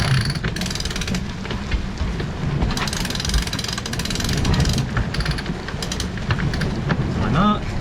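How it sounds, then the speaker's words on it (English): A sailboat winch ratchets as the mainsail is hoisted on the main halyard after a second reef on a North Atlantic crossing, a steady run of clicking under loud wind and water noise with voices nearby. "So wind the sail back up on the main halyard."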